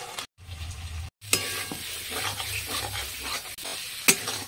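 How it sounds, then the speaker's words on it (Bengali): Spice paste with tomato paste and a little water sautéing in a pan for a tengra fish curry, giving a close, steady sizzle with scraping stirs and a couple of short gaps, no voices. "সুন্দর করে মশলাটা কষিয়ে নেব।"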